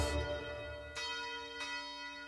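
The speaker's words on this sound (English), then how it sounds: "Somewhere between those rolling hills and the ringing church bells" Church bells in Italy ring out with a rich, sustained tone, new strikes arriving about every half second to second over a lingering hum; no voices.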